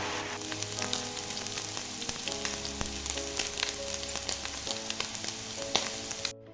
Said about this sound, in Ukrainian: Курочку підсмажуємо до золотистої скоринки.